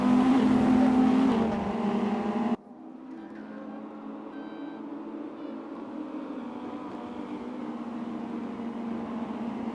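A race car engine in the Raceroom sim at the Nürburgring whines loudly at high revs, then drops abruptly and settles into a steadier, quieter drone.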